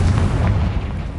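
The Confringo spell in the Hogwarts Legacy video game sets off one loud, close, booming explosion that rumbles briefly and fades out.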